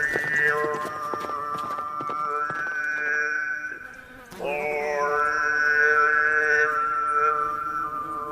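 Mongolian horses' hooves clip-clop in a steady, continuous rhythm, heard beneath a sustained, melodic tonal sound that briefly dips midway before resuming.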